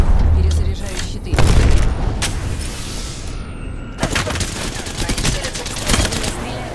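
Arc star grenade blasts in Apex Legends, with heavy booms and bursts of rapid gunfire in a loud, chaotic firefight over about seven seconds, and a voice talking in the mix.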